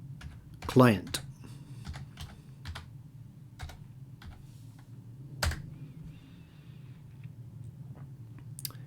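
Close computer keyboard typing comes as soft, irregular key taps spread across the stretch, with a brief louder clatter near the start, all fairly quiet with faint background noise.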